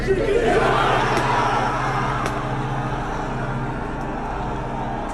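A movie theater audience erupts in loud, sustained cheering and shouting, a dense crowd roar that peaks at the start and holds steadily for several seconds.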